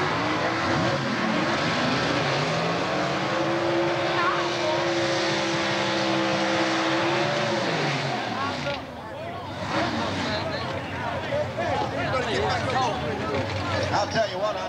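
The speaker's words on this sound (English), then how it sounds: "Listen to these two cars." Engine noise from two drag racing cars in Competition Eliminator at Atlanta, a loud sustained roar with a droning tone that fades partway through, followed by rougher rumbling, with someone talking over it.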